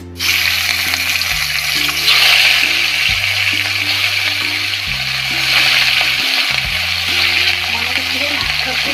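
Katla fish fries in hot oil, giving a loud, steady sizzle and crackle that lasts throughout, with music playing underneath.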